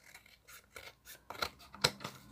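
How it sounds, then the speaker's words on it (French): Scissors snip around rubber stamp shapes in a run of short, close crisp cuts, the last few sharper and louder. "on va venir découper tout autour des tamponnages avec un ciseau"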